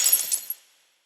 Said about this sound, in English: like a glass break